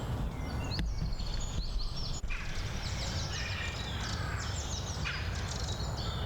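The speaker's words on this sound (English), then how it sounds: "Just pleasant to sit in English countryside, listening to the birds some days." Birds sing and chirp in the English countryside, with repeated bright trills and tweets over a steady low outdoor rumble and no talk.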